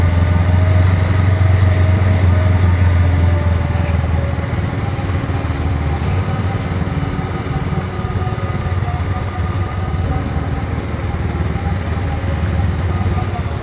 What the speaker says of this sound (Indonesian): Dan gue pakai motor ini lagi.